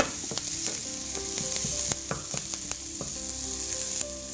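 Stuffing ingredients sizzle gently in a hot pan, a constant close frying hiss with occasional soft scrapes and clicks from stirring.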